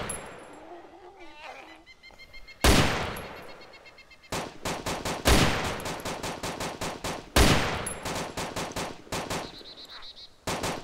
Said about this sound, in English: Yeah, because they're all fucking shooting at my building.